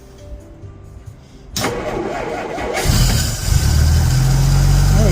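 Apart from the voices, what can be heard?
Dodge engine with Stromberg BXVES-3 carburetor starting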